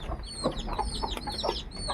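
Several chickens cluck in short, irregular bursts close by, with a few higher chirping peeps from newly hatched chicks mixed in over a steady low background hum.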